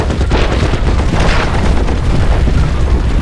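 A bomb goes off in the World War I strategy game Commander: The Great War, a loud, sustained rumbling boom with dense crackling debris throughout.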